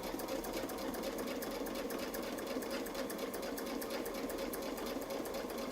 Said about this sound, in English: Sewing around the feather.